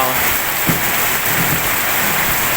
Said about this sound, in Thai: ตอนนี้ทางที่อื่นนะฝนตกแบบนี้หรือเปล่า